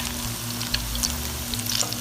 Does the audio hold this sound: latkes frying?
yes